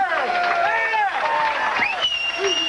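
A bowling crowd at the 1996 Tucson Open yells and cheers loudly, a dense wall of voices sustained for a few seconds without a break.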